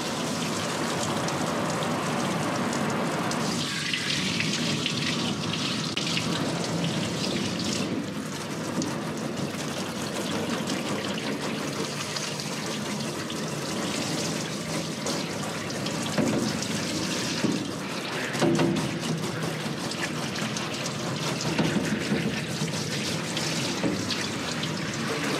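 Water from a tap or sprayer pours steadily into a bathtub while a dog with a heavy undercoat is soaked, a constant near hiss and splash with shifting spatter as the stream moves, no talk.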